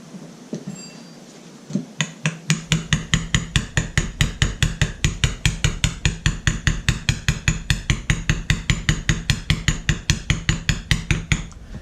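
A hammer taps a Walker mower's metal hydro pump in a steady, rapid rhythm, dozens of sharp ringing strikes close by with no talking.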